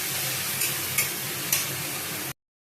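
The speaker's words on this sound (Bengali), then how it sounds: "মশলাটা দিয়ে বেশ কিছুক্ষণ কষাতে হবে।" Spice paste for masala paneer stir-fried in a pan, a steady close sizzle with three soft scrapes of the spoon spaced about half a second apart, then the sound cuts off abruptly.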